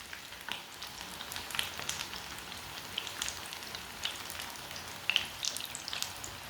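Gola kababs fry in hot oil, a faint, continuous sizzle with scattered crackling pops spread evenly across the moment.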